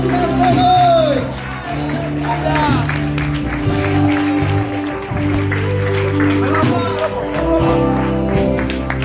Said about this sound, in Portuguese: Aplaude o Senhor Jesus nessa noite.